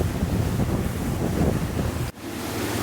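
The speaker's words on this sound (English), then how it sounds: "a washing machine of swell and wave from different directions. It's just a mess out here." Offshore Atlantic swell and confused waves wash around a sailboat under engine power, a loud continuous roar of water and wind buffeting with a brief dip partway through, with no voices.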